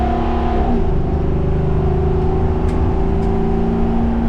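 A 2022 Jayco Alante 26X Class A motorhome with a V8 big-block engine accelerating through a turn, a loud continuous engine roar with a low droning tone that shifts slightly in pitch, close and steady throughout, no talking.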